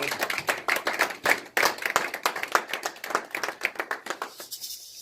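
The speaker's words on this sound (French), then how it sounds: "Est-ce qu'on peut donner une main d'acclamation pour la parole de Dieu?" Steady hand clapping from a church congregation applauding during a sermon, a dense, fairly distant patter of many hands that holds for several seconds before thinning out.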